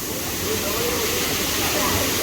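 Chander waterfall in Malvan, Konkan, pours steadily as a loud, continuous broadband rush of falling water that stays even and close throughout, with no pauses or breaks.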